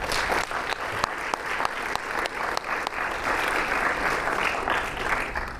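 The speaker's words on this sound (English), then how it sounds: "let's go ahead and we're going to have one more round of applause for all of our recipients" A high school military commitment ceremony crowd applauds its recipients with steady, full clapping that holds evenly throughout, close and loud with no speech.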